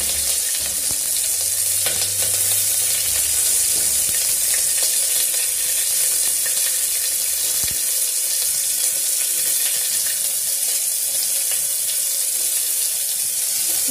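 Green chili and onion frying in hot oil for masala matar pulao, a steady dense sizzle filling the whole stretch without pause, loud and close with faint stirring underneath.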